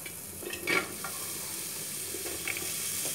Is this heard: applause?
no